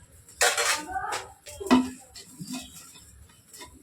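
A metal lid clatters onto a kadai in a home kitchen as a mochar ghonto with prawns cooks, giving a few sharp clanks and a brief scrape of cookware, close by and moderately loud.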